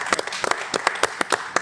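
A few people clap in a brief, uneven burst of sharp claps lasting under two seconds.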